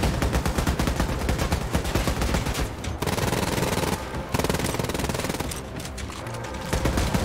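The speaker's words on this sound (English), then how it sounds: "Oh, who's shooting me still?" Loud, sustained automatic gunfire in Wolfenstein: Youngblood, a dense rapid stream of shots with brief pauses between bursts, close and dominant over the rest of the game sound.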